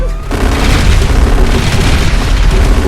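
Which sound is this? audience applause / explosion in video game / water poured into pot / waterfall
explosion in video game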